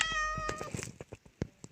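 A cat in a horror video game meows once, a clear tonal cry, followed by a few soft clicks and taps nearby.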